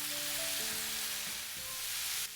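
Chili powder, cumin, garlic powder and curry powder stirred into a pan for chicken pie filling, under a loud, steady, hissing sizzle with a faint hum beneath it.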